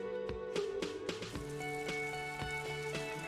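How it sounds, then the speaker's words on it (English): Steady rain falls outside in the video game Disco Elysium, a dense wash of patter with scattered sharper drips, heard over a sustained musical tone throughout. "And it's raining outside."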